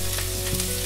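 Carrots sizzle steadily in hot oil in a pan, a dense, continuous close-up frying hiss with no voices.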